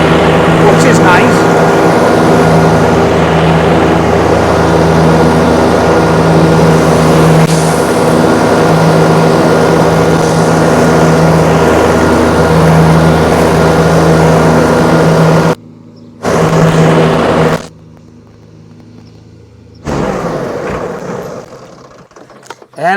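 A 2022 John Deere 3033R compact tractor with loader, belly mower, 4x4 hydrostatic drive and three-point hitch runs loud and steady on hand throttle, a continuous droning engine hum under speech that drops out briefly twice near the end.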